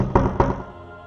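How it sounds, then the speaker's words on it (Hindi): Two hollow thuds of a knock on a door, spaced a quarter second apart, close and fairly loud, then a fading room tail, used as a horror story sound effect. "फिर से नॉक करता है"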